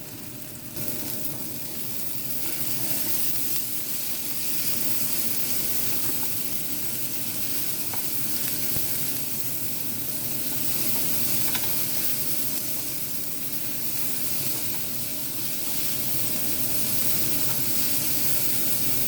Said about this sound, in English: I'm just going to let these broccoli flowers cook down a little bit till they're a little soft.